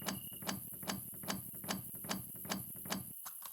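Steady rhythmic mechanical clicking, roughly two ticks per second, like a small motorized ratchet whirring and clicking, ending with a sharp click and brief silence; an electric lockpick working on a door in the VR video game Thief Simulator.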